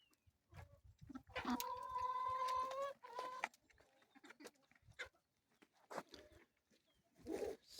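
A rooster gives a loud, drawn-out crow partway through, with scattered hen clucks and faint barnyard sounds before and after in a quiet farmyard kept with chickens and quail.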